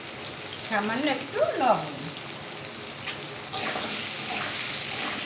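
Chana dal frying in a pan while being stirred, a steady sizzling hiss running throughout with a few louder scrapes, under a voice speaking briefly near the start.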